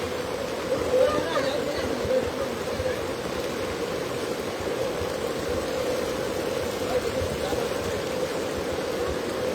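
Heavy rain pours steadily in Silchar, Assam, a dense continuous hiss of water that holds at an even level throughout without pause.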